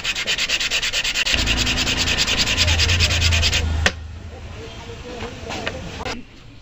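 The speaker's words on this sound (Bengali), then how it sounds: "শিরিশ কাগজ দিয়েও ফিনিশিং করে নিচ্ছি এবং এই কলারটা একদম পাতলা করে দেব" A collar on a Honda Hunk motorcycle suspension bush is rubbed down with sandpaper in fast, steady, rhythmic back-and-forth strokes, loud and close, before stopping and leaving only quieter handling noises.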